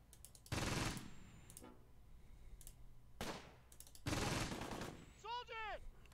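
Gunfire in the WWII strategy game Close Combat: Battle for Caen: several loud, sharp bursts of shots spaced a few seconds apart, with a whistling shell-like sound near the end.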